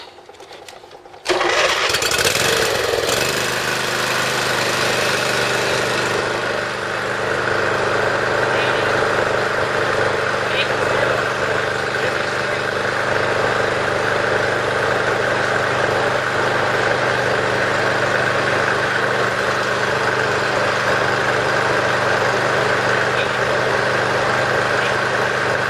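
A small generator engine starts after a brief pause and then runs at a steady idle, a continuous loud drone with a constant low hum that lasts to the end, running without a muffler.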